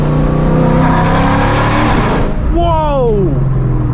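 A Shelby GT500 engine revs hard while driving, very loud, roaring through climbing and falling pitch sweeps with a sharp rise near the end, while excited voices talk over it.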